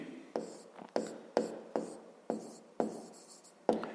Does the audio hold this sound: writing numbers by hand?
yes